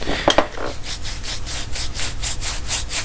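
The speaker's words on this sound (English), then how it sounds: "he just shaved his beard and just rubbed it on the microphone, and it sounds like sandpaper" Freshly shaved beard stubble rubs repeatedly against a microphone, a close, scratchy rasping in steady back-and-forth strokes, like coarse sandpaper, with a couple of brief clicks near the start.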